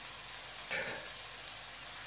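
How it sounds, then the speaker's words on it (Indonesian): Fried anchovies hit sizzling chili sambal in a pan, giving a soft, steady frying hiss with a brief burst of louder sizzle as they are stirred in. "Okey, so sekarang kita masukkan ikan bilis goreng kita."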